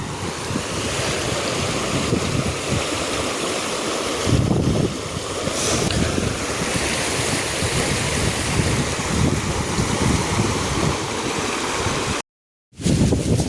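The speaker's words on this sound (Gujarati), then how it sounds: "જુઓ મિત્રો કેટલી નદી હાલે જુઓ" A rain-swollen river rushes after heavy rain, a loud, continuous roar of churning water mixed with wind buffeting the microphone, steady throughout apart from a momentary dropout.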